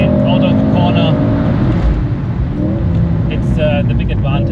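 A Mercedes-AMG car powers out of a corner on a race track, its engine note loud and steady with harmonic tones rising as it pulls, someone talking over it throughout.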